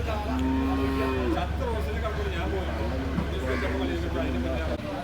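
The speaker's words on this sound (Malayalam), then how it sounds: "ഈ ഒരു സെക്ഷനും വലിയ കാളകളുടെ സെക്ഷനാണ് അത്രയ്ക്കും വലിയ കാളകളാണ്" Big bulls at a Kerala cattle market low repeatedly in drawn-out moos over a steady low rumble, with a busy crowd murmuring behind them.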